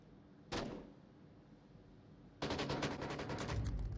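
A single sharp gunshot rings out in the VR shooter game Onward, then after a pause a rapid burst of automatic gunfire rattles on steadily, somewhat distant and muffled.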